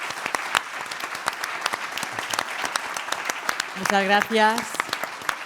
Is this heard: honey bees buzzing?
no